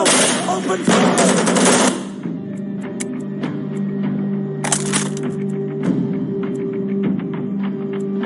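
Rapid machine gun bursts from the video game Black Hawk Down, loud and dense for about two seconds, then a steady engine-like hum under sporadic single cracks and another short burst near the five-second mark.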